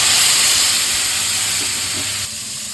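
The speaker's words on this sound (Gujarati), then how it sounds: "મરચાં તળેલ તેલ છે એમાં જ વઘાર કરી હિંગ નાખીને" Asafoetida and spices dropped into hot chili-frying oil for a tempering, giving a loud, steady sizzle and hiss that eases slightly toward the end.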